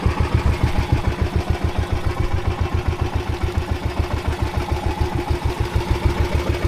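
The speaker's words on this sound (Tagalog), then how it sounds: "Palya-palyapan yung makina natin kaya dandahan tayo mag-uwi sa mother boat" A boat's engine runs unevenly and keeps misfiring, heard close up as a steady, rapid low thumping that continues with no break and no voices.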